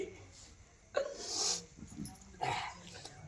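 A dog whimpers and gives short yelps near the microphone, with brief loud bursts around a second in and again near two and a half seconds, mixed with voices talking in a stage drama scene.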